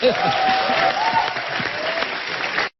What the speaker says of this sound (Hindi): हरीश जी के लिए तालियां हो जाए यार थोड़ा